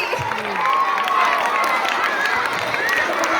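Children at a school Christmas celebration clap and cheer as a Santa arrives, a loud close mix of clapping, shouting and excited voices filling the short burst.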